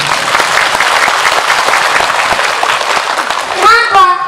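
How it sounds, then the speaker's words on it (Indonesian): Audience applause at a large Islamic religious gathering celebrating a madrasah anniversary, a dense, steady wash of many hands clapping loudly and continuously, with a voice breaking in briefly near the end. "oh ya tepuk tangan dulu nggak apa-apa"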